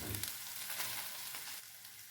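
Okra sizzles steadily in hot oil for a Tamil vendakkai poriyal, a dense, continuous frying hiss with a few faint stirring scrapes and no talking.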